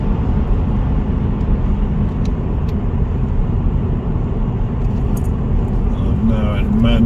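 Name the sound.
Mercedes E220 CDI car driving in sport mode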